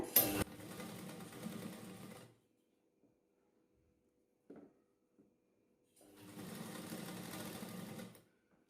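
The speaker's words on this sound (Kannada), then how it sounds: "ಸ್ಟಿಚಿಂಗ್ ಮಾಡಿ ತೋರಿಸ್ತೀನಿ ನಾನು ನಿಮಗೆ ಯಾವ ರೀತಿ ಬರುತ್ತೆ ಅಂತ" A sewing machine runs in two bursts of steady stitching, about two seconds and then another two, with a quiet gap between them broken by a small click. It is sewing a jeans-style topstitch.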